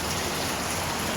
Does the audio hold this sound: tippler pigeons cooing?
no